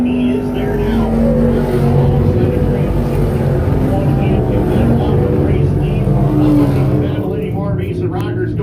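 Race cars roar down the back straightaway at Can-Am Speedway, a loud, continuous pack of engines that holds steady with no break, under excited race commentary.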